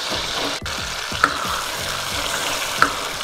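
Tomato and spice masala sizzles steadily in a pan for Potohari daal mash, with a constant crackling fry broken by a few soft stirring clicks and scrapes, no talking.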